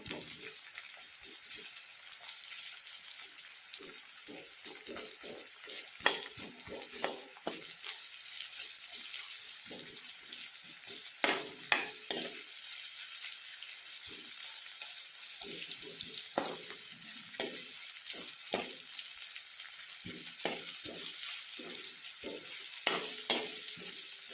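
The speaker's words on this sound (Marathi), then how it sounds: "आता हा कांदा छान तेलामध्ये परतून घ्यायचा अगदी मौसर होईस तोपर्यंत अगदी बारीक गॅस ठेवून हा कांदा परतून घ्यायचा" Chopped onion sautés slowly in oil over a very low flame, a faint, constant sizzle under repeated spatula stirs and scrapes that come in irregular clusters, close by and without speech.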